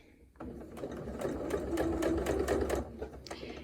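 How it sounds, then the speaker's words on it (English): A sewing machine stitches a curved arch of fabric for a half-circle quilt block, its close, steady motor whir running continuously for about two and a half seconds before stopping. "very slowly, very carefully match it up with the edge and sew"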